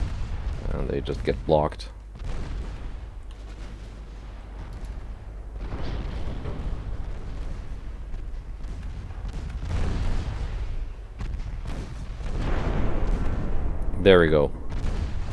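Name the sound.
warship main guns firing in Ultimate Admiral: Dreadnoughts video game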